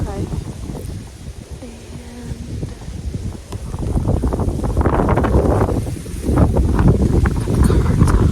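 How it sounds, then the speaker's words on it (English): Strong gusty wind buffets the microphone outdoors on a freezing morning during deer hunting season, with a low, rumbling roar that swells louder in the second half, with faint sounds beneath. "it's freezing this morning and it's very windy"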